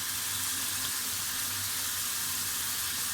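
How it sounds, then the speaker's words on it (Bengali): Water is poured into a pan of curry with spiced gravy already cooked down, making a steady, close rushing and bubbling hiss with no pause and no one speaking. "এখন ঝোলের পানি দিয়ে দেবো"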